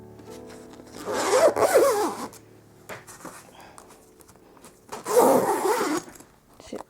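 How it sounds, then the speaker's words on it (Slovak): A zipper on a Tiny Low baby crib cover is drawn closed in two long rasping pulls separated by a short pause, close and fairly loud, with faint rustling between them. "Takto sa to pekne zazipsuje"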